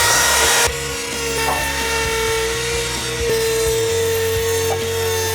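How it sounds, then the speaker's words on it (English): A router fitted with a 1/8 inch radius bit cuts along the edge of a deck board, producing a loud, continuous whining drone close by that holds steady throughout. "I'm gonna set up my router"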